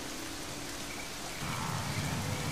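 Heavy rain pours steadily in the Serengeti, a dense continuous hiss that swells louder partway through, with no voices.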